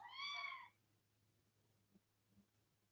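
A single cat meow, clear and fairly close, lasting under a second, followed by quiet room hum with a couple of faint knocks.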